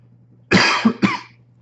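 A single close, loud cough in three sharp bursts, breaking a quiet background with a low steady hum.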